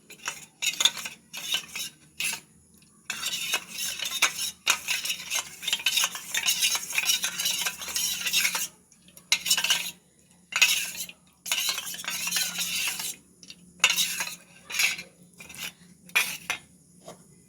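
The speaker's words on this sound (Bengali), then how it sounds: "আর একটু লবণ দিয়ে খুব ভালোভাবে গুলিয়ে একটা ব্যাটার তৈরি করে নেব।" Pakora batter with salt whisked in a bowl: loud, rapid rhythmic scraping and clinking of a utensil against the bowl in repeated bursts, broken by short pauses, with no talking.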